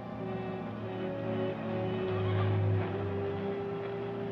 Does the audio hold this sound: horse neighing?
yes